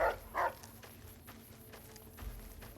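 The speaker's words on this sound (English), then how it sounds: "The mechanical dog you have with you." Two short, fairly faint barks from Rex, a mechanical cyber-dog in Fallout New Vegas, close together at the start, followed by low ambient game noise.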